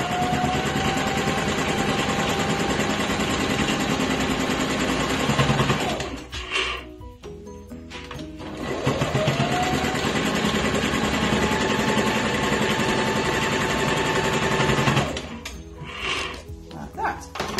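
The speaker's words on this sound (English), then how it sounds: "now we need to go back to the sewing machine" A sewing machine stitches a fabric mask in steady whirring runs, stopping briefly before starting up again, close and loud.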